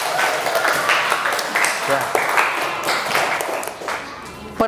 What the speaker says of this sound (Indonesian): Oke, tepuk tangannya semuanya.